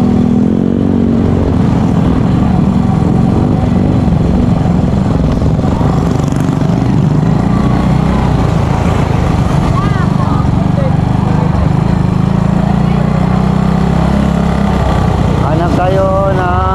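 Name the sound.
motorcycle engine running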